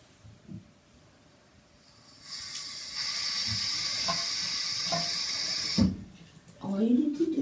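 Water from a shower sprays with a steady hiss, rising partway through and cutting off near the end, with a few knocks and faint voice-like sounds around it.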